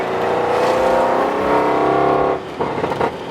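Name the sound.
Audi RS7 accelerating hard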